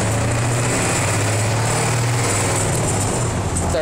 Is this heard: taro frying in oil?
no